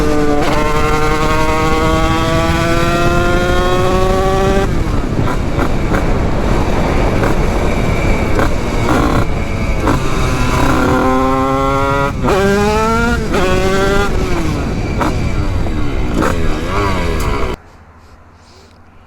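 A Yamaha DT motorcycle engine runs loud and close, its pitch climbing and falling through repeated revs before cutting off abruptly near the end.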